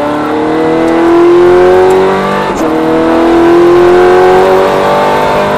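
Ferrari F430 engine accelerating on a race track, loud close roar with rising pitch, a brief dip as it shifts, then climbing again steadily, no voices.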